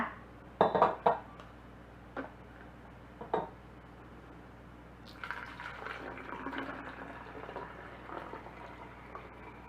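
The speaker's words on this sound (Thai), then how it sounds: "เวลาจะเทน้ำใส่ขวดก็หากรวยแบบนี้ค่ะ จะได้ไม่หกเลอะเทอะนะคะ" A roselle and Chinese jujube herbal drink is poured through a funnel into a bottle. A few clinks of glass and utensils come first, then a continuous, gurgling trickle of liquid fills the bottle.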